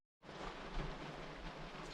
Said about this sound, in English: the rain's getting heavier and the sky's getting darker